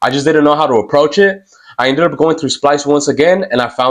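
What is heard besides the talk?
No everyday noises stand out.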